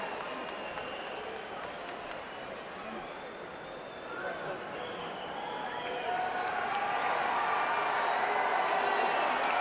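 Filipino boxing fans in an arena at a Pacquiao–Barrera fight, a broad crowd roar of booing that builds steadily louder over the clip, distant and massed, with a commentator talking over it.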